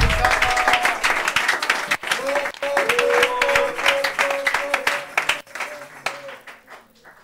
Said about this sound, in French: Acclamons pour le roi des rois.